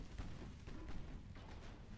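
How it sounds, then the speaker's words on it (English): Naval gunfire in the video game Ultimate Admiral Dreadnoughts, a steady rumble of distant cannon booms and bursts as a ship is peppered with shells, continuous and moderately loud with no talk. "Ship is getting peppered with all sorts of gunfire."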